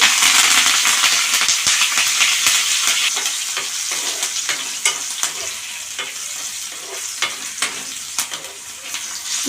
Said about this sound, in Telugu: పచ్చిమిరకాయలు వేపుకొని కొంచెం కరివేపాకు